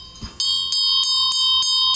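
An older, ornately molded bell is struck repeatedly in a steady rhythm, about six bright metallic strikes close by, each decaying quickly with little sustain and a slightly dissonant ring, with no talking.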